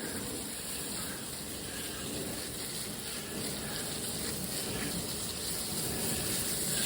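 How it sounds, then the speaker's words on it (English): Water pours steadily onto a straw-mulched garlic planting bed, a soft, continuous rain-like gush that stays even and fairly faint throughout, with no voices. "So I'm going to give this planting bed a really good soaking."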